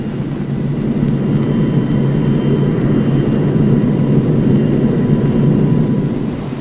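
A loud, steady jet engine roar from a taxiing F-102A interceptor drones on continuously, close by, with a deep low rumble and no break throughout.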